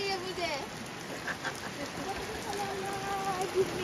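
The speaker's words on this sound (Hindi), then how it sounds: "बारिश हो रही है धूप थोड़ी आ रही है" Rain patters steadily outdoors during a trek in Nepal, a fine continuous hiss of drops on surfaces with faint bird-like calls and brief voices in the background.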